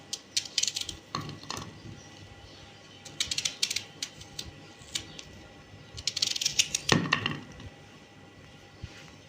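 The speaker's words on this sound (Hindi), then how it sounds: "आप देख सकते हैं दोस्तों कि प्याज को हमने 4 हिस्सों में काट लेना है।" A knife cuts an onion into four pieces on a cutting board, preparing for a dhaba-style aloo keema; a few irregular clusters of crisp chops and board knocks, close and fairly quiet, with no talk.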